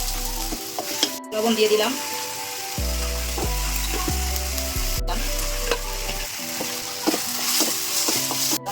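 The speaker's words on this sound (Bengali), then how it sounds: "আদা বাটাটা আমি কিছুক্ষণ ভেজে নেব তেলের মধ্যে আর কি।" Ginger paste fries in oil for egg korma, a steady sizzle with stirring scrapes under background music, and a voice speaks briefly near the start.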